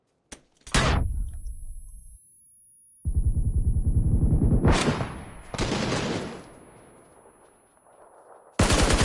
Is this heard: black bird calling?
no